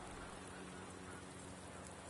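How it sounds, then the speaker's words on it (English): Steady rain falls at a dark Brands Hatch circuit in the racing game Project Cars 2, a continuous broadband hiss of drops on the surface, even and unbroken throughout. "the rain continues to fall"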